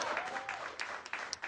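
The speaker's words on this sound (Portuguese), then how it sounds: "Outra salva de palmas para Jesus." A church congregation claps in praise during a service, a dense, fairly faint patter of hands with a few sharper claps standing out.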